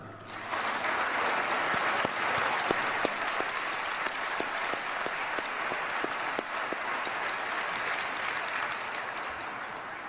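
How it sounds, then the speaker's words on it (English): Sustained applause from a large audience at the 2011 NASCAR Hall of Fame induction ceremony for driver and car owner Junior Johnson, steady and even for about ten seconds, moderately distant, with no talk. "A round of applause, please, for a man whose legend in NASCAR ran wide and deep as a driver and a car owner, Junior Johnson."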